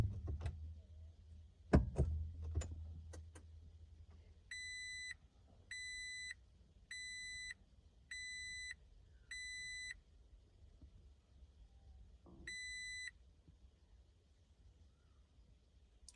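A third-generation Toyota Tacoma with a brake override malfunction beeps while its start button is held: six evenly spaced electronic beeps, five in a steady row and one after a pause. They ring clearly over a low cabin rumble, with a few clunks early on.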